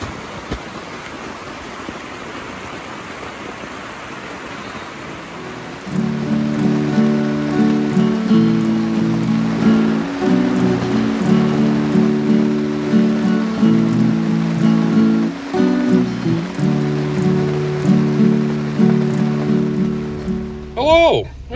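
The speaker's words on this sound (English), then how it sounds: "That's rain you hear." Steady rain falls on a tent in a New Hampshire camp, a soft continuous patter that carries on through the clip while a low, droning tone sits beneath it in the second half.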